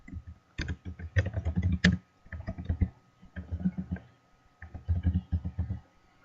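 Someone types a made-up practice Edmodo username on a computer keyboard: clustered, fairly close keystrokes come in three uneven bursts with short pauses between them.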